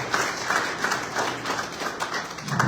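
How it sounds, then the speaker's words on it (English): An audience claps for a few seconds at a Zimbabwe embassy event in Namibia, the applause a dense patter from a modest crowd. "Let us give them a round of applause."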